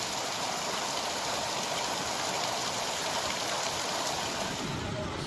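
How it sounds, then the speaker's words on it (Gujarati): Light drizzle falls onto rainwater flowing across the ground by a low causeway bridge, a steady hiss of rain and running water that stays even throughout, fairly close. "આકાશમાંથી પડી રહેલા વરસાદી છાંટા જ્યારે જમીન પર વહી રહેલા પાણી સાથે અથડાઈ રહ્યા છે"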